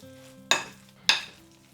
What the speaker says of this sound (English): So I'll go in with a spoon and mix everything together